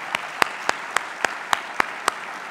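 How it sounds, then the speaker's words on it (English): Slow, evenly spaced claps ring out one after another at a construction innovation awards ceremony, about nine sharp hits in a steady rhythm that sound like one or a few people clapping. "Please give them a word of applause."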